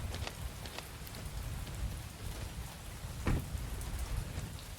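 Rain falls steadily in the video game Mon Bazou, pattering densely on surfaces with scattered louder drops. It is fairly quiet and heard alone, without voices.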